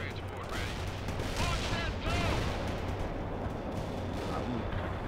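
Gunfire and artillery fire support in the World in Conflict video game: a dense rumble of booms and shots over a steady low drone, with voices speaking faintly underneath.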